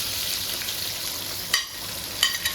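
Small shallots frying in oil with popping mustard seeds, a steady soft sizzle broken by two brief crackling bursts, heard close and quiet with no voices.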